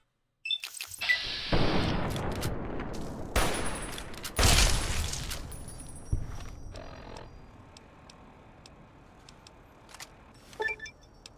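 Several loud video game gunshots in a post-apocalyptic wasteland shooter, a few sharp heavy blasts spaced a second or two apart with decaying tails, followed by quieter mechanical clicks and small metallic rattles.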